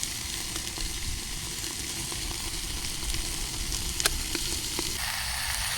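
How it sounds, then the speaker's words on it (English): Chilli cooking in a pan at a wild camp, with a steady, close sizzle and frying hiss throughout and a few clinks of stirring utensils against the pan. "Got the chilli cooking."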